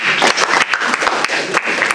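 Audience applause at the closing ceremony of Conakry World Book Capital 2017, a loud, close burst of many hands clapping continuously through the whole moment.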